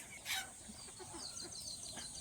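Desi country chickens at a poultry farm cluck softly in short scattered notes, quiet and a little distant, with no talking.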